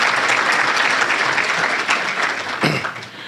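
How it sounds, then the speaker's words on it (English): An audience at a small business awards event applauds the Chamber staff with dense, sustained clapping that fills the room, easing slightly near the end. "Please give them a round of applause for being able to put this together."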